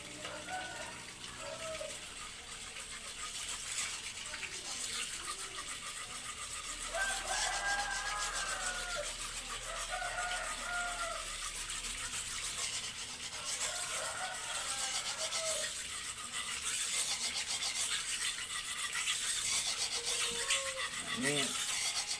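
Steady, gritty scraping of a knife blade rubbed back and forth across a 600-grit corundum whetstone, continuous and close, with faint wet swishing underneath.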